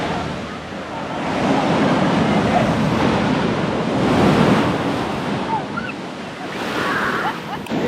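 Ocean waves break steadily on Sand Beach in Acadia National Park, a loud continuous rushing surf with swelling surges and some wind noise, no voices.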